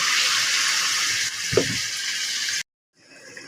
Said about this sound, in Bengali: ভালো করে কষিয়ে নিয়ে সামান্য একটু পানি দিয়ে দেব